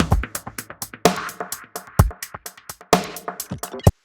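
Processed drum loop in a remix transition, with delay and filtering applied to the beat: punchy kicks and snares repeat in a steady rhythm, trailing echoes and swept tonal changes smoothing the groove, loud and close with no voices.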